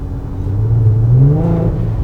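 A boosted 2014 Infiniti Q50 with the 3.7L engine, making over 600 wheel horsepower on E65, pulling hard from inside the cabin, a deep engine drone climbing in pitch and growing louder.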